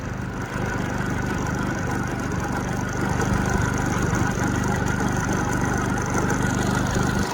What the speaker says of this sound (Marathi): मित्रांनो बघा गाडी चालली